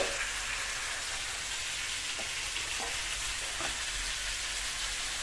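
Slices of eggplant (begun bhaja) frying in oil in a pan, giving a dense continuous sizzle close by with a few faint stirring taps, no talking.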